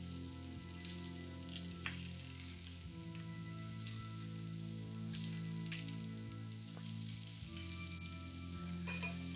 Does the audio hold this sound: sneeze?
no